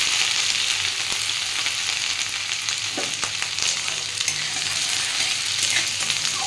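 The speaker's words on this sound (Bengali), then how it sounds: "আর একটু সাদা জিরে ফোড়ন দিয়ে দিলাম, দিয়ে ভালো করে একটু ভেজে নিচ্ছি" Cumin seeds and grated ginger fry in hot oil in a pan for an oats khichuri, giving a steady, close sizzle with a few light stirring scrapes and no talking.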